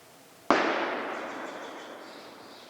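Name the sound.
distant gunshot while hunting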